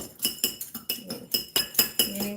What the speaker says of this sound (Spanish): Ya nomás con 2 tenedores y le empiezan a deshebrar así, súper rapidito.